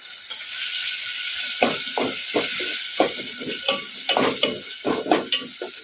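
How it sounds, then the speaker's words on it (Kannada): Tomatoes sizzle in a pan on medium flame while a spoon stirs them repeatedly, giving rhythmic scraping strokes over a constant frying hiss, close and clear. "ಈ ಥರ ಕಲಿಸ್ಕೊಂತಾನೆ ಫ್ರೈ ಮಾಡಬೇಕು ಟೊಮೊಟೊ"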